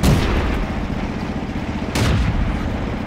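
Tank cannon fire in the World of Tanks video game, two loud booming shots about two seconds apart, each followed by a rumbling tail over constant engine and battle noise.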